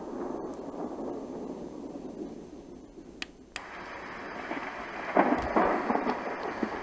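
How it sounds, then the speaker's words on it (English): A roffie N600 white noise sound machine plays its rain-with-thunder track: steady hissing rainfall, a brief dropout, then a deep thunder rumble rolling in beneath the rain. "And rain with thunder"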